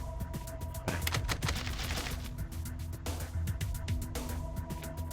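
Rapid bursts of explosive gunfire in Idle Zombie Waves crackle in quick succession, loud and continuous, with sharp impacts and booming blasts over a steady rumbling backdrop.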